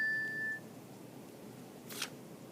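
A cell phone gives a short electronic notification beep, a clear steady tone for about half a second, followed by a quiet room and one brief faint click.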